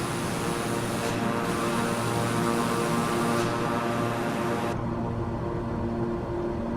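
A Beechcraft King Air 350 turboprop in Microsoft Flight Simulator 2020 drones with a loud, steady propeller and engine roar that holds constant throughout, its high hiss dropping away near the end.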